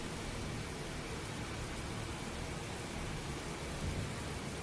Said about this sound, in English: Dude, it's raining.